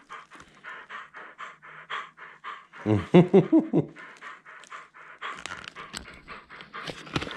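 Virtual dog in a children's toy game panting in steady rapid bursts, pausing while a laugh breaks in, then resuming with brisk breathy pants to the end.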